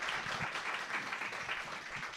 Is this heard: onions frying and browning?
no